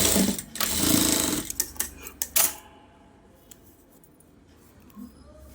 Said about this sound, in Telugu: ఇది ఇక్కడ ఇంకొక కుట్టేసాను